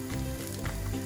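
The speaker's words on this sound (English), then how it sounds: "let it sizzle on the other side as well." A breaded veal cutlet sizzling in a hot pan, a steady crackling hiss with small pops, close up and alone.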